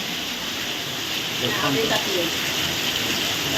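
Dense, continuous hiss of heavy rainfall pours down steadily, with a faint voice briefly audible underneath.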